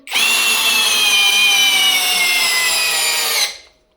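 A small LEADER 45 Nm cordless impact screwdriver drives a screw in one loud, steady, high-pitched whine with a buzzing hammer rattle that lasts about three seconds before stopping abruptly.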